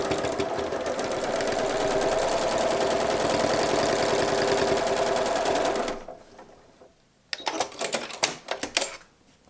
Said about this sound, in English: So I'll just use free motion lines back and forth to sew those all together